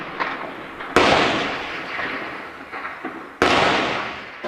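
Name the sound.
gunfire in war zone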